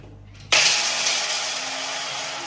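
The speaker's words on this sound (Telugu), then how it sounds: "ఇప్పుడు మనం మిక్సీ వేసుకోవాలి" A mixer grinder grinding rice starts abruptly after a brief quiet moment, then runs with a loud, steady whirring roar.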